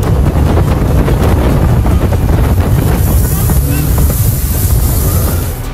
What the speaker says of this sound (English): What could possibly go wrong when you take your speedboat and you drive it through the swampy waters?